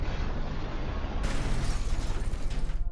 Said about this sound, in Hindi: और लेडी की गाड़ी क्रैश हो गई।